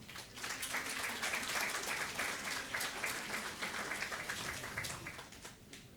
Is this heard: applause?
yes